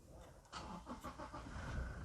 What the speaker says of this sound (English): Okay, let's start the car.